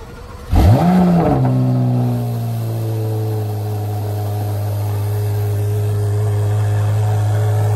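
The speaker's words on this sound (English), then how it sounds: "Cold start time." A Chevrolet Corvette Z06 cold start gives a sharp cranking catch and a loud rising flare of revs, then settles into a steady, fairly high idle nearby.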